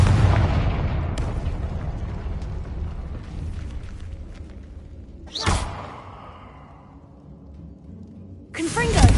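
Confringo fire-blast spells in Hogwarts Legacy go off as a rumbling burst, then two sharp, loud impacts a few seconds apart, with a voice speaking over the noise.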